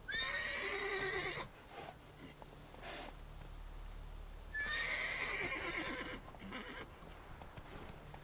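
A horse in The Witcher 3 video game gives two shrill whinnies, one at the start and another midway, over quiet ambient game sound and soft hoof noises.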